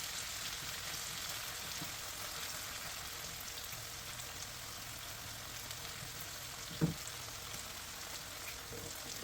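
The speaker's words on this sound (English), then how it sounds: "Put it quickly on the frying pan." Pork loin sizzles steadily in a frying pan, a dense, even crackle lasting the whole stretch, broken once by a single brief knock near the end.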